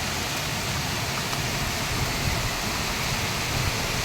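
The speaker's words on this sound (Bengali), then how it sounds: "জোরে জোরে জোরে বৃষ্টি পড়ছে" Heavy rain pours down steadily during a thunderstorm at a house, a dense, even hiss of falling water that holds at the same level throughout, with no voices over it.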